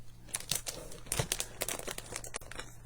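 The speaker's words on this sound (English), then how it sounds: "so you just need to peel off the backing" Adhesive backing strip peeled from a small handmade Christmas gift packet, a run of close crinkling, papery crackles and short tearing rips over about three seconds, with no talking.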